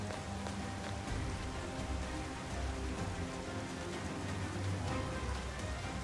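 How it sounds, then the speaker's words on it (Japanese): Steady rain falling in the video game Persona 5 Scramble, a dense even hiss and patter with low rumbling underneath, continuous and fairly close throughout. "雨というやつか。 急に降り出してきたね。"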